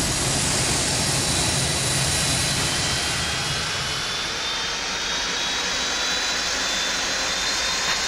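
A Boeing 747-200 jet engine idles after start-up in a flight simulator game, a continuous roaring whine with a steady high-pitched tone that stays even and fairly loud throughout.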